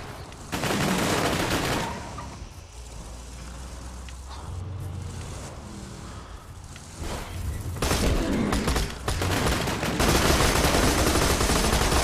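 Turret-mounted weapon fire in Borderlands 2, loud bursts of rapid shots separated by brief lulls with rumbling engine and explosive noise between volleys.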